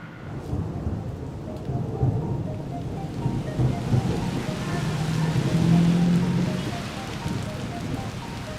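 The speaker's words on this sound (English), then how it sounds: "Downpour." Heavy tropical downpour with rumbling thunder over a street in Bangkok's old Chinatown, rain roaring steadily and dense throughout while low thunder swells and rolls beneath it, loud and close.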